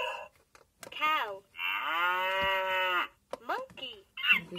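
A Little Tikes toy tablet for toddlers plays a recorded cow mooing: a long, drawn-out electronic moo with a few shorter lowing calls around it, and a person speaks briefly between the sounds.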